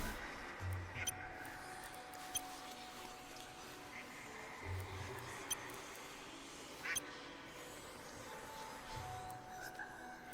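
Duck quacks in the video game Hytale, a few short calls spaced several seconds apart, fairly faint under steady game ambience and small clicks.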